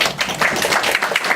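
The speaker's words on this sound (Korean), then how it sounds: "박수로 맞이해주십시오" An audience at a community lecture claps steadily to welcome the speaker, a dense, close patter of many hands with no talking.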